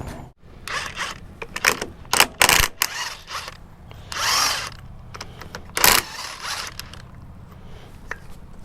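Short bursts of a power tool whirring on and off while removing bolts from heavy equipment, several separate runs with brief pauses between, close by with no talking.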